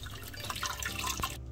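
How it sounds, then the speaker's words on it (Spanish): Water pouring into a frying pan of chipotle meatball sauce, a short continuous splashing trickle that ends abruptly. "Ahora le vamos a agregar agua,"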